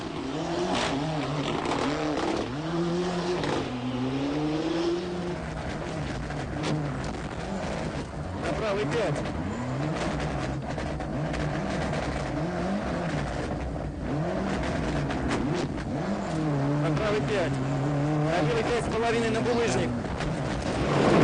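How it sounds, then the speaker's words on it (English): A rally car at the 1998 European Rally Championship in Poland is driven sideways through a stage, its engine revving up and down continuously under a commentator's narration. "Gardemeister was once again second fastest, enjoying himself as he went through the stage sideways in the approved Finnish style."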